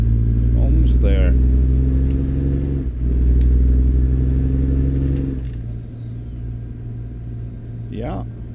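A Kenworth KW900 truck engine in American Truck Simulator, hauling an oversized load through Arkansas, drones low and steady with a heavy rumble that eases off near the end; a voice talks over it briefly.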